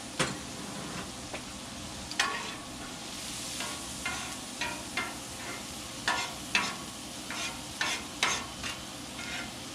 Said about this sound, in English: And then I'm going to put these onions down. And we're just going to soften up these onions.